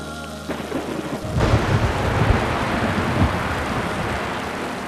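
A deep roll of thunder breaks over heavy rain pattering on surfaces, the storm loud and sustained after a quieter start.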